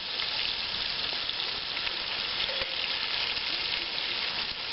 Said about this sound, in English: I'll let this cook down for probably about 5 minutes until all that sausage has shrunken up a little bit and cooked up